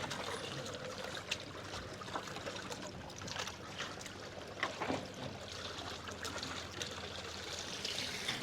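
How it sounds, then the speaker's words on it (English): Water trickling and flowing steadily at moderate distance, with soft splashes and occasional clicks, no voices. "stop the water flowing"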